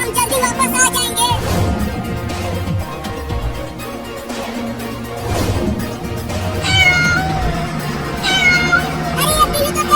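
An injured kitten, hurt after being run over by a tempo, meows repeatedly in plaintive high cries over background music in a cartoon scene.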